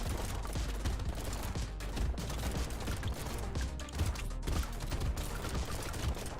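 Rapid gunfire from revolvers in the roguelike shooter game Brotato, a dense continuous barrage of overlapping shots with game effects, loud and steady throughout.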